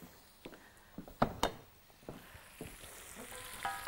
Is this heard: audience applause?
no